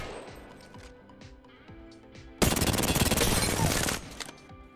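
CAR SMG firing in Apex Legends: a loud, rapid continuous burst of automatic gunfire lasting about a second and a half, preceded by quieter game sounds and movement.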